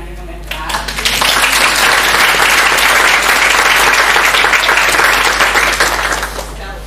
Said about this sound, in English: can I give them a clap?